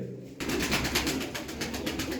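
Pigeons coo continuously inside a loft, a dense layered murmur of low calls over steady noise. No voices are heard.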